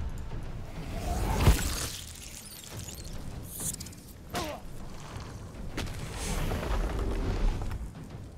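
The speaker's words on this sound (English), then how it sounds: "Dude, that explosion." A booming explosion in the video game Divinity Original Sin 2 bursts with a heavy whoosh, followed by crackling magical impacts and rumbling debris over several seconds.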